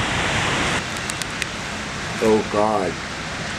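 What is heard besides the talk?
storm rain hitting, almost like hail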